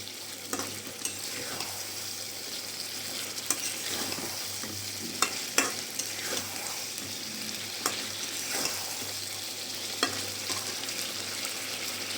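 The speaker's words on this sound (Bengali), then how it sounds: "খুব ভালো করে কষিয়ে নিচ্ছি।" Chicken meat sizzles and fries steadily in a pan, with repeated scraping stirs of a spatula at irregular intervals, close and fairly quiet.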